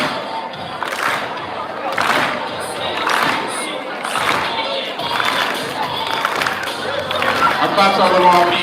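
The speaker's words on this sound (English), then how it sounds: "Our claps are a little offbeat, y'all." A crowd at a school basketball game claps in a loose, slightly uneven rhythm, amid steady crowd noise, cheering, and nearby talking.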